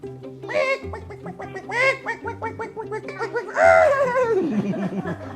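Several nasal duck quacks in quick bursts, mixed with laughing sounds, over a steady musical background.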